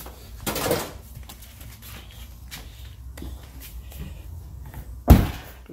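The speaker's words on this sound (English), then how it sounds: "Close the door" The door of a 2021 Honda Pilot shuts with a single loud, low thud near the end, after quieter clicks and rustles of handling around the car.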